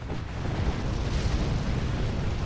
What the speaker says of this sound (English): The Inferno cannons are burning down the Russian expansion down here